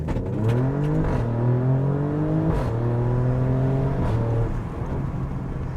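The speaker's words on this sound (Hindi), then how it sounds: "Just listen to the sound of this vehicle, downshift, upshift" A 2021 Alfa Romeo Stelvio Quadrifoglio engine climbs loudly and steadily in pitch, breaking with clear gear-shift dips roughly every second or so, heard up close with no talking.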